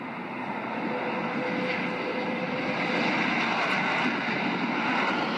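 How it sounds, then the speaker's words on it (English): An airplane landing gives a steady, loud, broad roar of engine and rushing air that holds evenly throughout with no talk. "That is probably the best landing I've ever seen."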